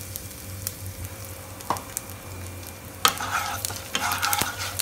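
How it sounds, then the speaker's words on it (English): Cumin seeds and asafoetida frying in hot oil in the same pan used before, giving a steady low sizzle with light stirring and a few crackles that grow busier toward the end. "Now in the same oil, put cumin seeds or jeera seeds and hing or asafoetida."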